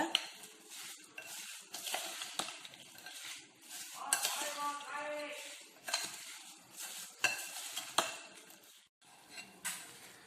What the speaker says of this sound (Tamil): நல்லா அந்த சக்கரை பாகு வந்து எல்லாத்துலேயும் கோட் ஆகுற மாதிரி நல்லா மிக்ஸ் பண்ணிக்கோங்க